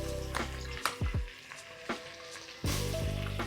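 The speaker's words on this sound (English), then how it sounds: "So I'm going to let the butter melt a bit, and then I'm going to add the flour." Butter melts and sizzles steadily in a pan before flour goes in for a roux, close and continuous, broken by a few soft utensil knocks and stirring sounds, then a louder surge of sizzle near the end.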